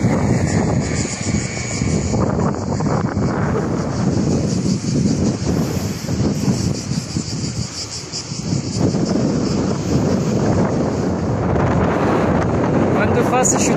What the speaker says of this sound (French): Vent de face, je suis désolé, aujourd'hui il y a beaucoup de vent.